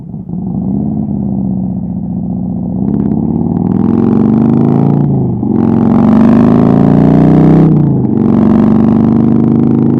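Motorcycle ride heard from inside a Sena Momentum Pro helmet: a loud, close engine drone rising in pitch through several gear pulls, with brief dips at each shift, and little wind noise.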